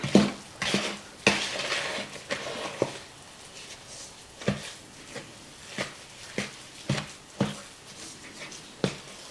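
A spoon stirring a thick peanut butter bar mixture in a bowl, rhythmic scraping knocks against the dish repeating roughly every half second, close and fairly loud with no talking.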